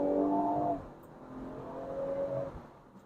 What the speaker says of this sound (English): a great exhaust note and a great feel